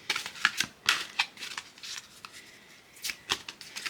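Oracle cards being shuffled by hand, a run of quiet crisp riffling bursts in an uneven rhythm, close and soft, with no talk.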